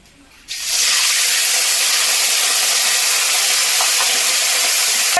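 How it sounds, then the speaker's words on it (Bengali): Water is poured into a hot pan of lightly fried fennel seeds and bursts into a loud, steady sizzling hiss that starts abruptly and holds strong throughout. "মৌরিটা হালকা ভেজে নিয়েছি এবারে দিয়ে দেব জল"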